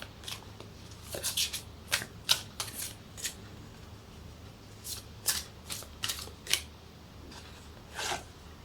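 Oracle cards shuffled during a life purpose reading, a series of crisp riffling bursts and soft slaps coming in irregular clusters, close and fairly quiet with no talking.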